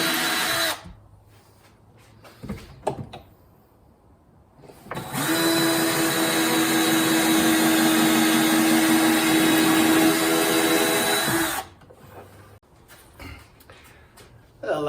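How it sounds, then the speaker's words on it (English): A power driver runs screws through a glued beam inside a camper trailer's kitchenette cabinet, giving one long, loud, steady whir of about seven seconds, with quieter handling noises before and after. "add glue to this beam, and secure it to our trailer inside of the cabinet with screws"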